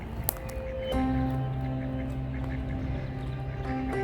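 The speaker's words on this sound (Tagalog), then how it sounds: "Yan, maraming itik dito." Ducks quacking along a river at Mona Vale Park, a few scattered calls over steady outdoor background noise and a low hum, fairly close and moderately loud.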